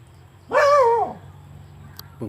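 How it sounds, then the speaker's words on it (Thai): A dog at a fishing spot lets out one loud, close bark that slides into a drawn-out yelp, followed by faint background murmur and a small yip at the end. "มันเห็นปลาหลายมันเห่าปลา"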